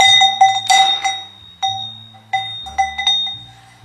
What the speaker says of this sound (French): Je pense que les voisins en ont marre d'entendre cette cloche.